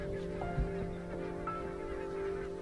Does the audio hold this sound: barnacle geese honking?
yes